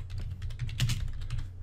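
Rapid typing on a computer keyboard, a quick run of soft, closely spaced key clicks continuing steadily and close up, with no voices.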